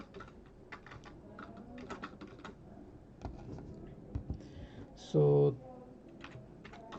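Computer keyboard keys clatter in quick irregular bursts as code is typed, with someone talking quietly over much of it and a brief loud tone near the end.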